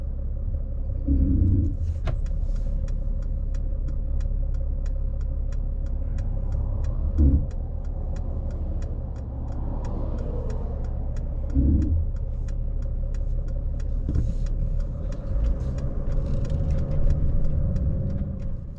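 A car cruising on a road near the Temple Bar marina at Lake Mead, Arizona, with steady low engine and tyre rumble heard from inside the cabin, faint ticking throughout and a few soft thumps, no talking.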